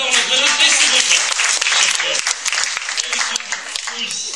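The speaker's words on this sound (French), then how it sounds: "On l'applaudit bien" Lively audience applause at a Francophonie event in Kosovska Mitrovica, with loud, dense clapping that starts strong and gradually thins. A voice speaks briefly over it.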